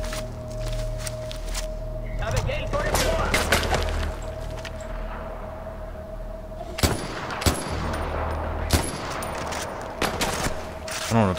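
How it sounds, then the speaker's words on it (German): Bursts of gunfire in Far Cry 4, sharp isolated shots and clusters over continuous game ambience and a steady tone, with someone talking throughout. "3 Schüsse, wieso lädt der wieder nach?"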